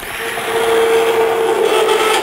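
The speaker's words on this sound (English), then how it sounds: "So we're going to use the immersion blender" An immersion blender whirs in enchilada sauce, a loud, steady motor drone with a thin high whine that runs for about two seconds before it eases off, with no voices.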